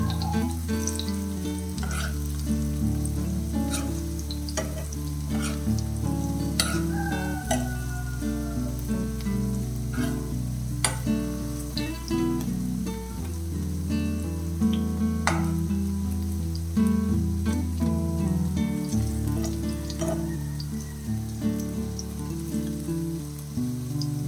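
Paneer cubes frying in a pan give a soft, steady sizzle with occasional light stirring, running under louder background music throughout.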